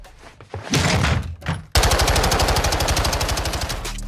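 Gunfire from the video game Call of Duty Modern Warfare 2 opens with a few scattered shots and then becomes a loud, rapid, sustained burst of automatic fire.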